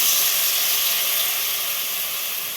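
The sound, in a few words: battered eggplant pieces frying in hot oil in a wok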